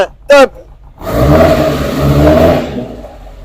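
An Alpine Renault 1300S with a Renault 8 engine accelerates on a mountain pass road, its engine note rising and holding as a steady loud drone inside the car, after a short voice and a click.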